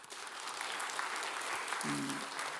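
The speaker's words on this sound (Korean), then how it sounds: "수고한 여러분들을 위해서 박수 보내겠습니다." Steady applause from a church congregation at a Korean Sunday service fills the whole stretch, dense and continuous, with a brief low tonal sound near the end.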